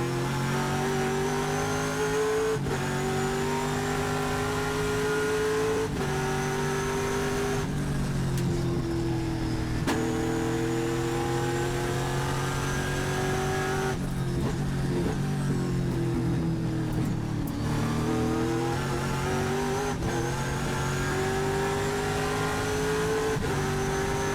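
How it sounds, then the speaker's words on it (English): TA2 race cars roar continuously around Thunderhill during a Trans Am Western Championship race, engines revving up and down through gear changes, loud and close for the whole stretch with no talking. "I was laying off there just so we could hear the sounds of these beautiful TA2 machines"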